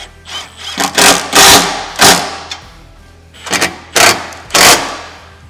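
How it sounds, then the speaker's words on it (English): Tightening bolts on a SuperATV front bumper being fitted to a Can-Am Defender, loud close bursts of a power tool or ratchet coming in several uneven runs of about a second each, with quiet gaps between them. "Now we're gonna fully tighten our lower hardware."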